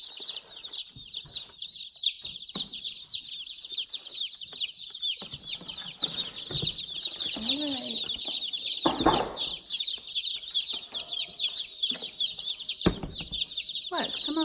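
Baby chicks in a brooder keep up a dense, continuous high cheeping chorus, with an adult voice speaking briefly in the middle.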